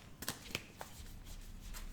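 Tarot cards being shuffled and cut, heard as a few quiet, close riffling slaps and flicks early on, then softer rustling.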